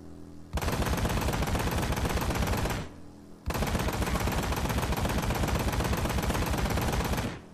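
Sustained automatic gunfire aimed at an enemy in the video game Road to Hell Retribution, two long dense bursts of rapid shots, loud and close, with a brief pause between them and no talking.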